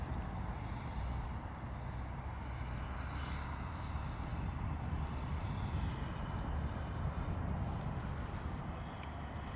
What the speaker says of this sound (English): But loving that Bombardier Global 6000